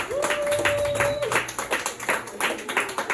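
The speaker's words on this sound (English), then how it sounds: "Please give a big round of applause for Rory, lads." Comedy club crowd in County Kerry clapping after a set, scattered individual claps with a rhythmic, uneven pattern, a brief sustained whistle or cheer-like tone near the start, and some voices mixed in.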